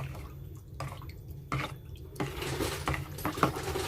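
Dish soap being stirred into a homemade natural pesticide mixture in a container, light clinks of a utensil against the vessel and small watery drips and sloshes, close and quiet.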